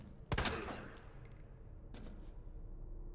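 A single sharp gunshot cracks out in the Resident Evil 4 video game, followed by a fainter second report and a quiet hum of game ambience.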